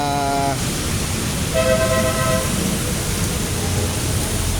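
Heavy typhoon rain pours down on a dark roadside with little wind, making a dense, steady roar. Brief tonal horn-like notes ring out over the downpour.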